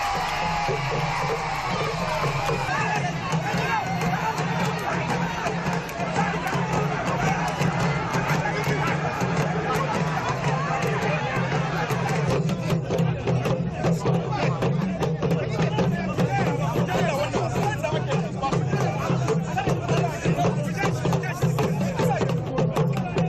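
Dense crowd noise at a Haonkaho bull-taming show in Niger: continuous excited shouting, cheering and babble from a large gathering, with griot music running underneath, loud and steady throughout.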